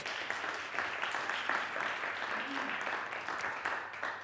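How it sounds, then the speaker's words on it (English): Steady applause from the audience at a Reporter Slam Africa 2024 show, a dense wash of clapping that holds evenly throughout without a break. "So please give a warm applause to all these amazing colleagues."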